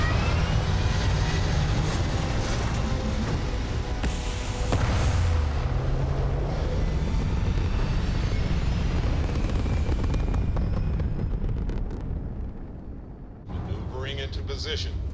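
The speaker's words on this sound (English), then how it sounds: "Prepare for liftoff." A spaceship lifting off in the game Starfield, a massive continuous engine rumble and roar that fills the scene at full loudness before easing near the end, with a voice speaking briefly over the tail.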